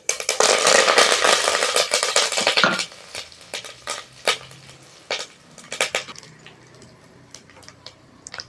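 Spices and curry leaves hit hot oil for a mutton curry, giving a loud burst of sizzling that fades after a few seconds into scattered clinks and scraping stirs.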